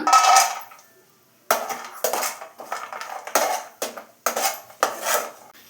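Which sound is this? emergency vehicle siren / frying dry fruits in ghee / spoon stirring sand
frying dry fruits in ghee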